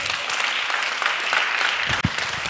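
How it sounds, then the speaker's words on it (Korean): Applause from a church congregation at an Easter revival meeting: steady, dense clapping that fills the room for the whole stretch, with a brief dip and a low thump near the end. "우리 하나님께 영광의 박수 한번 드려요"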